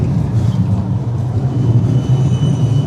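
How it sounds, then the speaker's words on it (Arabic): An Amsterdam tram passes along a city street, a steady low rumble of wheels and motor running throughout at close range with faint traffic noise around it. "بس ده الترام"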